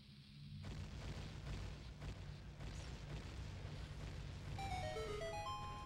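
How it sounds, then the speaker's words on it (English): Bombs explode in Zelda: Ocarina of Time, an abrupt loud boom followed by a sustained rumble, then a rising chime-like jingle near the end. "This game can't handle this many explosions."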